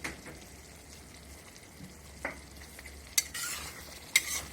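Paneer butter masala with garam masala stirred in a pan, a quiet soft scraping and bubbling with a few sharper clinks of the spoon against the pan near the end.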